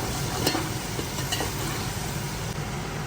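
Whole spices, including bay leaf, star anise, cinnamon sticks, black cardamom and cloves, fry in hot oil for pulao with a continuous close sizzle and a few faint stirring clicks.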